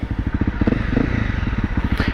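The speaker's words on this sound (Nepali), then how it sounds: "riding dot bike in city" Honda CRF dirt bike riding through city streets, its engine a steady, rapid low thumping pulse held close and loud for the whole stretch, with a light rattle over the top.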